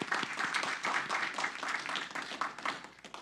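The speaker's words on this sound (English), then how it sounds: "Let's give him a round of applause and welcome to the city." An audience at a city council meeting gives a round of applause to welcome a new resident, a moderate patter of many hands that swells and then slowly thins out toward the end.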